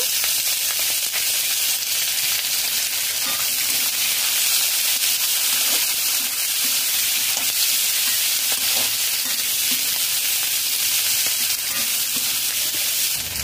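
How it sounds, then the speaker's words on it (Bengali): Two medium onions, cut into quarters, sizzle and fry steadily in a pan with garlic over a medium flame, a continuous close, loud hiss with faint stirring scrapes throughout. "মিডিয়াম ফ্লেমে 2 মিনিট পেঁয়াজ ভেজে নিয়েছি।"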